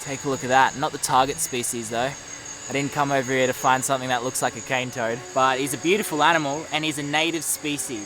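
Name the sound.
night insects, likely crickets, chirping in the jungle by a river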